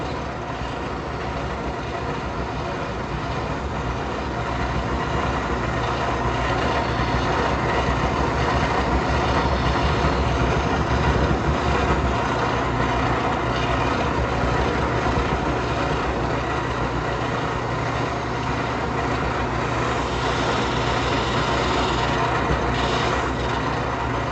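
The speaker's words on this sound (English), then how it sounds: "I have a little drum sander on my drill press." A steady, loud motorized whir with grinding friction runs continuously, a small drum sander on a drill press spinning against the curved wood of a child's step stool, with no talking.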